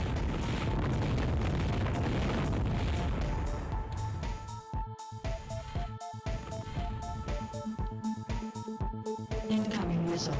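Missile explosions in the video game FireFight: a dense, loud roar of blasts that breaks into rapid pulsing bursts, with a steady electronic tone running underneath.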